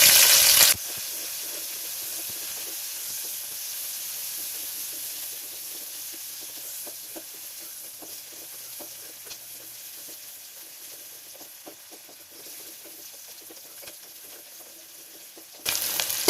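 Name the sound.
onions frying in oil in a pressure cooker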